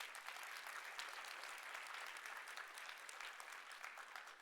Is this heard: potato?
no